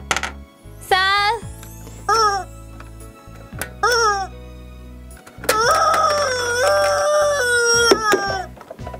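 A screaming rubber chicken toy lets out a series of loud, shrill, warbling squawks, some short and one long, with a voice and other voices around them, near and clear.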